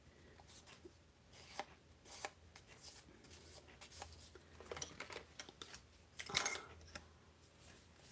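Paper is trimmed for a handmade card, giving faint, close, crisp cutting and scraping sounds. They come in short irregular bursts over a quiet room, with one sharper rustle near the end.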